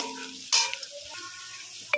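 Thin-sliced potatoes frying in oil with nigella seeds and bay leaf, a crackling sizzle broken by two sharp spatula knocks against the pan.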